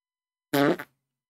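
A single loud fart, close and dry, lasting under half a second with a brief second puff at the end, alone against silence.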